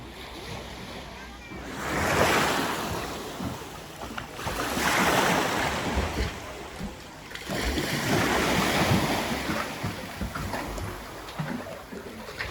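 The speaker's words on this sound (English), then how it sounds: "You just see the waves as they're coming out of that rock." Ocean waves break against rocks by a beach in Nerja, Spain, three rolling washes of surf swelling and fading in slow succession, with wind buffeting the microphone.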